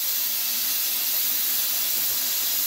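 A pressure cooker full of mixed dal and lobia, Punjabi style, vents steam after its whistle is lifted: a loud, steady, unbroken hiss fills the whole stretch on its own, with no voices over it.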